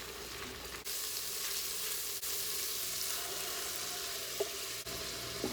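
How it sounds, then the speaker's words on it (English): A chickpea masala base with chili paste sautés in a pot, giving a steady, even sizzle that holds at the same level throughout with a few faint clicks and no voices. "I'm going to saute this for a few minutes here until the raw smell goes away."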